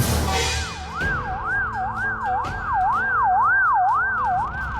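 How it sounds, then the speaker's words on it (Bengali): An ambulance siren wails on a road, a clear rising-and-falling tone repeating steadily and growing louder as it nears, over low traffic rumble. "আরে আরে অ্যাম্বুলেন্স, কোনো দুর্ঘটনা ঘটছে নাকি?"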